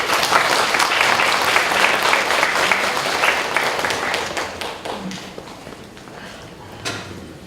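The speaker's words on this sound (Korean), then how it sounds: "큰 박수로 환영해 주시기 바랍니다." An audience at a church service claps to welcome a speaker, a dense burst of applause that starts loud and then gradually thins and fades.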